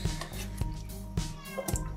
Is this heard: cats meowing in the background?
yes